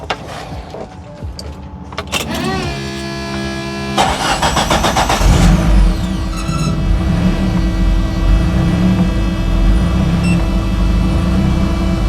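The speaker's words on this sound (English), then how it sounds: "So I'll start the car up and" Suzuki Sierra with freshly replaced coolant hoses, heard up close: the starter cranks briefly, then the engine catches with a loud surge and settles into a steady, even idle.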